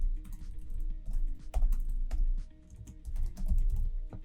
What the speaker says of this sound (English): You just type in the email of the person you want.